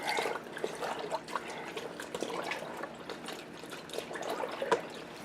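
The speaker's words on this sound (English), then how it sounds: "I'm going to hand wring this out" Wet clothing from an HE washer being wrung out by hand over a sink, with water splashing and trickling in steady, close, moderately loud bursts and dribbles and no talk.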